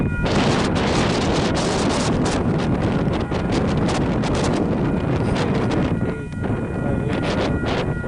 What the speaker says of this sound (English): the wind is making me angry, guys.